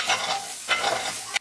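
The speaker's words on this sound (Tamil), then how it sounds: "அப்புறம் கால் கப் கொத்தமல்லி இலை சேர்த்து கலந்துக்காங்க" Spiced mixture stirred in a pan after coriander leaves, salt, chaat masala and garam masala go in, heard as scraping strokes over a soft sizzle, with two or three distinct stirs close by before it cuts off.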